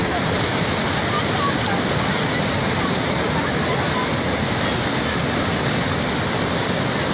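Floodwater after heavy rain rushes across a road in Uganda, a constant broadband roar, loud and near, with no break from start to end.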